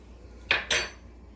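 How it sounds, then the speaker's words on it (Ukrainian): Two quick metallic scrapes of a spoon against a saucepan as milk with baking soda is stirred, close and distinct over a faint kitchen hum. "І гарненько ретельно вимішуємо."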